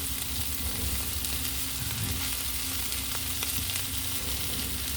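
Home fries sizzle loudly in extra virgin olive oil in a pan, a dense continuous crackle heard up close and steady throughout, without any voices.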